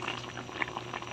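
Water at a steady rolling boil in a pot with bananas cooking for sweetened plantain, a continuous bubbling and gurgling heard up close with no voices.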